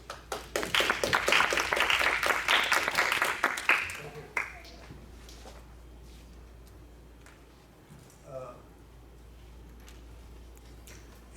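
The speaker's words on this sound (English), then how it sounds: "So let's welcome Dr. Lin and let's applause" Audience applause welcoming a lecture speaker at an academic talk, fairly loud dense clapping for about four seconds before fading out to a quiet room.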